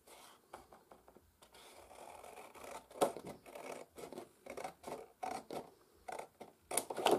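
Paper being cut with scissors for a handmade Halloween mini album, a series of close, crisp snips and scraping slices in irregular bursts, quiet and without speech.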